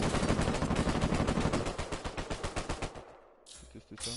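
Rapid automatic gunfire from an Uncharted 4 multiplayer match rattles in a dense, loud burst that thins into spaced shots before tapering off, with game effects behind.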